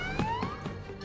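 An alarm siren wails aboard a ship in the video game Valkyria Chronicles 4. It rises in pitch over a low background hum, is brief and moderately loud, and plays alone.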